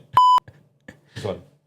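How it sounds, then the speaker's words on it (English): A loud, sustained electronic beep from a soundboard button sounds once, about a quarter second long, followed by brief bits of speech. "Beep out."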